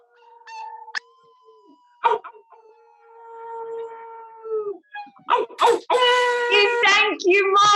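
People imitate a wolf howl with their voices, sustained wavering tones that rise into a loud overlapping group chorus of howls and yips near the end.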